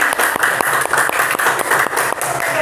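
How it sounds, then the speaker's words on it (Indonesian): A group in a classroom gets a round of applause, dense clapping from many hands filling the room steadily for a few seconds, with no talk over it. "Kita beri aplaus buat kelompok 5"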